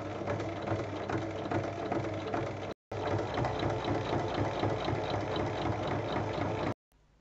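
A sewing machine stitches darts in fabric scraps, a fast, even mechanical whirr with rhythmic needle clatter that runs continuously, breaks briefly near the middle, then resumes and cuts off near the end; no talking.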